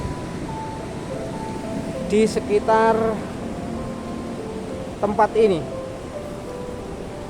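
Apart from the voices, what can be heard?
sea waves and wind at Watu Karung beach, Pacitan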